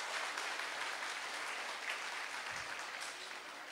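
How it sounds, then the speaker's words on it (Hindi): An audience at a happiness talk claps steadily throughout, a dense even wash of applause at moderate distance. "ताली बजाना तो आता है ना"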